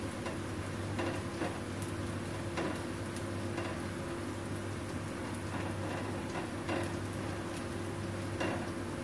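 Ginger and garlic frying in a little oil in a wok for simple cap cai, a dense continuous sizzle with faint ticking stirs throughout, close and steady.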